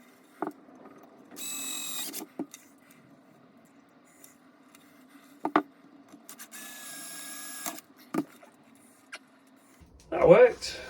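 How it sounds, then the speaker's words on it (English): Small drill boring a bridge ground hole through a guitar body with a 2mm bit, two whining bursts of a couple of seconds each, with clicks and handling knocks between them. "Let's get this hole drilled, because this is really all I've got left to do"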